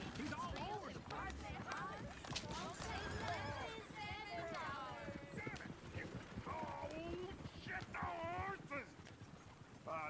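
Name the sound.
horse hooves and whinny, Red Dead Redemption 2 video game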